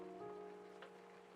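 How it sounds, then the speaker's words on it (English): Soft, steady rain falling outside an apartment in a video game, a faint continuous patter under a low tonal hum, with no voices. "See the rain outside? How it falls around us?"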